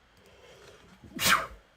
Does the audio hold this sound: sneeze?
yes